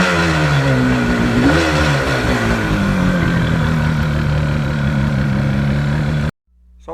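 A 1977 Yamaha RD400 two-stroke motorcycle revs loud and close, its buzzy, raspy engine note climbing and falling once early on before holding a steady high drone, then cutting off abruptly near the end.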